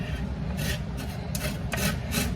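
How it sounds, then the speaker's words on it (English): A whole lemon being zested on a box grater for cranberry muffins: steady scraping rasps repeating in rough strokes, close and moderately loud, with a low background rumble and no talking. "So I'm just gonna zest this whole lemon."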